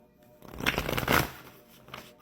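Someone shuffles a deck of tarot cards close by in quiet room. There is a short papery riffle and a flutter, then a second burst that trails off.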